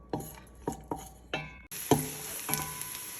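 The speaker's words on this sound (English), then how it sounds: "So I'm gonna be adding diced garlic. We'll saute for 2 minutes or less." Diced garlic sautés in about two tablespoons of nut oil in a pan for a chickpea soup; a few sharp utensil clinks come first, then a steady close sizzle with occasional stirring knocks, no talking.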